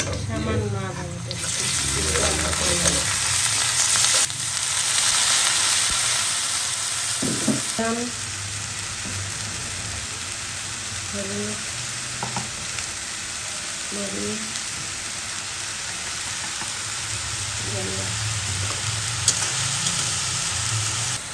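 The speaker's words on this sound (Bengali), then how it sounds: "ভালো করে মশলা কষিয়ে নেওয়া হচ্ছে" Spice paste with onion and garlic being fried in a pan, a continuous close sizzle with periodic stirring scrapes, while a person talks intermittently over it.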